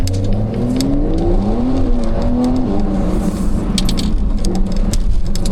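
A TechArt-modified Porsche 911 Carrera T engine revs hard at high RPM, its strained drone climbing steadily in pitch and then holding, loud and close from inside the car, with a few light clicks on top.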